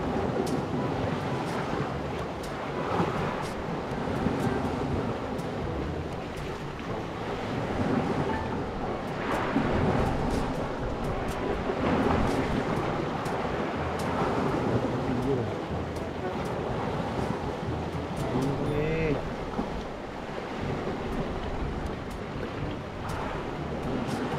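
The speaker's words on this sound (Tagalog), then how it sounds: "Ini ang dagat sa hangin." Steady roar of sea waves mixed with gusting wind buffeting the microphone, continuous and fairly loud throughout.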